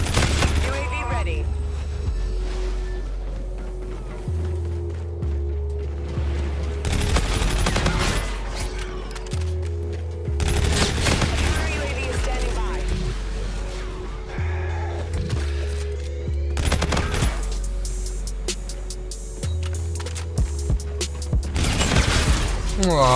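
Continuous rapid gunfire from a shooter game, Call of Duty: Infinite Warfare, in a free-for-all match on the Frontier map, with bursts and booms layered over looping game music and effects and occasional voices throughout.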